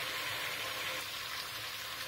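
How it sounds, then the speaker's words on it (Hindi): Potatoes fry in a pan with a steady, close, even sizzle and crackle that sounds like rain on a surface. No talk is heard over it. "और इसको मैं 2 से 3 मिनट तक भूनूंगी इसी तरह।"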